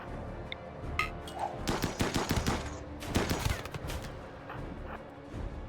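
RimWorld video game gunfire during a colony defense battle: dense bursts of rapid shots and crackling volleys, loud and continuous, with no voices.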